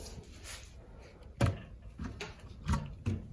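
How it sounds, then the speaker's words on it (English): Clamps being removed from a freshly re-curved wooden cupboard door, a few close, dull knocks and clunks of wood and metal at uneven intervals in a quiet workshop. "So I'm going to take these clamps off."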